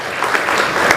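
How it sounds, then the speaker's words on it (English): Brief burst of conference audience applause at an international investment forum in Zanzibar, loud dense clapping lasting about a second. "Let's give them a big round of applause."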